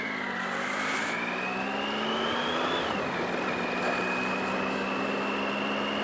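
A motorcycle engine held at high revs while riding drones steadily, its pitch climbing, dipping once, then holding, with wind noise underneath and no talking.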